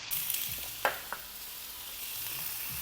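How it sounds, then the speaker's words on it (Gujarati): Poppy seeds, dry red chillies and peppercorns fry in a pan over a low gas flame for dum aloo gravy, giving a steady, soft close sizzle with a few short stirring scrapes and clicks and no voices. "આપણે સોપડી લેશું આ બધી વસ્તુ 2 થી 3 મિનિટ"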